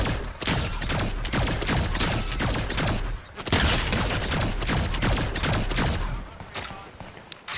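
Fortnite weapons fire in dense, rapid volleys that run nearly nonstop, with a brief pause in the middle before the shooting resumes loud and close, then fades toward the end.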